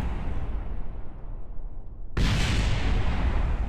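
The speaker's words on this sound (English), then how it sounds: "Some nice explosions out of it too" A rocket explosion in the video game Kerbal Space Program during a pad abort test: a steady loud rumble, then a sudden, much louder, broad blast that stays roaring to the end.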